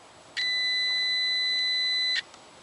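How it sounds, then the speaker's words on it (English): Continuity beep from a digital multimeter with its two probes touched together: a single steady electronic tone lasting close to two seconds, loud and clean, starting and stopping abruptly against a quiet background. "Touch the 2 probes together to make sure that the digital multimeter continuity setting is working, which will make a beep sound."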